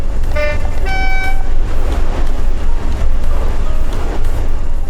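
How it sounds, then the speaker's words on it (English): Locomotive horn from Train Sim World on a cargo line, two short loud blasts near the start followed by a heavy rumbling engine drone heard from inside the cab. "The engine sounds high quality and high fidelity to me, same with the horn"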